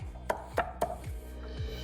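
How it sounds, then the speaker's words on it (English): Garlic and chilies pounded in a mortar with a pestle: three sharp, evenly spaced thuds close by, then softer grinding knocks, with no talk. "Now for my garlic, and that can go on the mortar and pestle as well."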